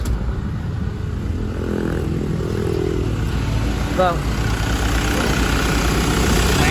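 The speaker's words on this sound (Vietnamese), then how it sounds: "máy nổ rất là êm luôn" A 2018 Ford Transit van's engine runs at a smooth, low, steady idle, close by and continuous, with someone speaking briefly over it.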